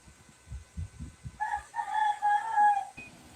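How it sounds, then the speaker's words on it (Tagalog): A rooster crows a long, wavering cock-a-doodle-doo, preceded by a few low clucks, fairly close and clear. "Kanindot sa manok, nagtatugaok dyan"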